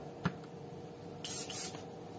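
An airbrush lays very light coats of paint on patent leather Christian Louboutin soles, giving two short, soft hissing bursts after a faint tap, against a quiet room background.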